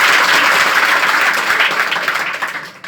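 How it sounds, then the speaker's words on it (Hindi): Students at a motivational talk in Mahua clap loudly together, a dense burst of applause that starts full and slowly thins out toward the end. "इसके लिए जोरदार ताली।"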